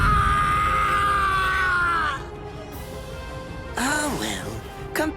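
A man screams in pain in the video game Bleach Rebirth of Souls: a long, sustained loud cry for about two seconds, then quieter groaning and strained vocal bursts that rise and fall toward the end.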